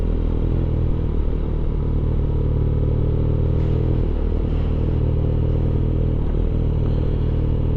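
A BMW R nineT Pure motorcycle on a ride, its engine a constant loud low drone with rumbling wind noise throughout and slight shifts in pitch.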